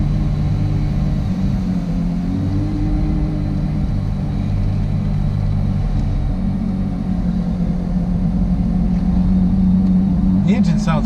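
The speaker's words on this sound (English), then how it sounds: "The engine sounds very industrial." A cold Porsche Carrera GT with about 1,900 original miles idling steadily, a low, continuous mechanical rumble with a slight rise near the end, loud and close with no revving.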